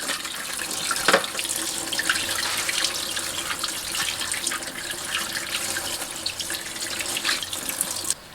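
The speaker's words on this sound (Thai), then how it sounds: "ล้างน้ำสะอาด" Catfish rinsed under a running kitchen tap: a steady, close rush of water pours into the sink with occasional splashes and handling noises, continuous throughout without speech.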